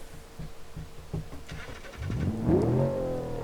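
A four-door hopper rock crawler in BeamNG.Drive idles with a low, uneven engine note before revving hard and pulling away, its loud engine rising to a steady drone.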